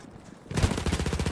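Gunfire in the Battlefield 1 video game, a quiet lead-in and then a sudden loud, rapid string of close shots with a sharp metallic impact ringing through.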